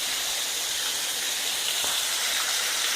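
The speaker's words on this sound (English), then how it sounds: "It's a really nice little waterfall." A small waterfall in the woods at Salt Fork State Park pours with a constant rushing hiss of falling water, steady and fairly close, with no voices.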